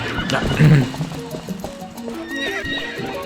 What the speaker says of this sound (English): Controlling a horse can be rather difficult.